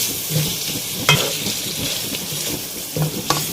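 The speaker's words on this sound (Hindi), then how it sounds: "इसके साथ भी हम इसको अच्छी से भूनेंगे।" Crushed fried onions being stirred and sautéed with chicken korma in a pan, with a steady soft sizzle, a spoon scraping and occasional light clinks against the pot, close by and with no talking.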